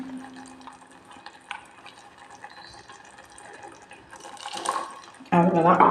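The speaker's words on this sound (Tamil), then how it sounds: "இந்த மிக்ஸி கழுவி கொஞ்சம் தண்ணி ஊற்றிக்கலாம்." Water is poured into a mixer grinder jar to rinse it during home cooking of a brinjal and cowpea curry, with soft splashing that builds into a louder, steady pouring rush near the end, alongside faint talking.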